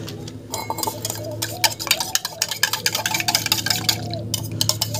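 A spoon stirs food colouring into water, making rapid clinks and scrapes against the container over a steady low background hum.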